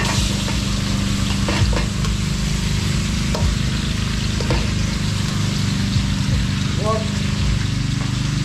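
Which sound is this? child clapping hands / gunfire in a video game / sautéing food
sautéing food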